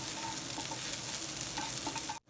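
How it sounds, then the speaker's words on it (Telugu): Garlic pieces and green chillies fry and crackle in hot oil while being stirred, a steady close sizzle with scraping of the spoon that cuts off abruptly near the end. "అలాగే పచ్చిమిర్చి కూడా వేసేసి ఒకసారి బాగా కలుపుకుందాము"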